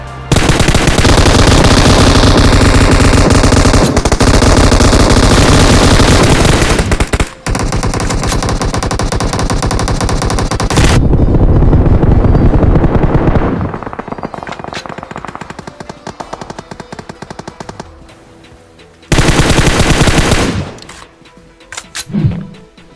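An M249 machine gun fires in long, rapid, loud bursts in a battle royale game, dense continuous fire at first, then shorter volleys and scattered shots with quieter gaps toward the end.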